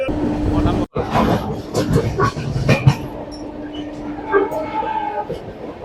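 An Indian express train from Howrah toward Digha, number 12857, rumbles and clatters along steadily throughout, a continuous rolling drone with faint hums, while people talk nearby over it.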